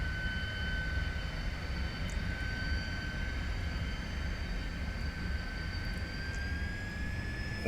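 T-33 Shooting Star jet engine in Microsoft Flight Simulator holding a steady, loud turbine roar with high whining tones that rise slowly toward the end, broadband rumble throughout and no voices.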